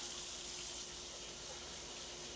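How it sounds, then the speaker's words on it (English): Cold tap water runs steadily over rice in a kitchen strainer, a constant broadband rush of water with no pauses for the whole short stretch, fairly quiet and heard on its own. "Just rinse it under cold water."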